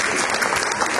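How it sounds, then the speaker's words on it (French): A crowd of wedding guests at a Congolese civil wedding ceremony in Troyes gives a burst of dense, even clapping that fills the whole moment. "Merci de l'applaudir,"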